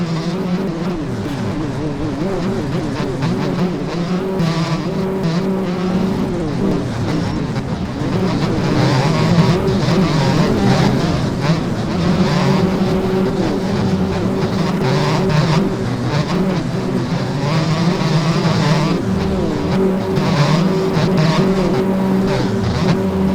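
Motocross bikes in the MX Bikes video game packed together at a race start, a dense, loud engine drone of many machines revving and droning continuously without pause.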